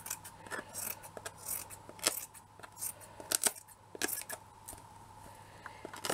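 Scissors trimming excess material around the edge of a shabby-chic wall plaque, a run of quiet close snips and crisp blade closes in uneven rhythm, soft and alone without talk.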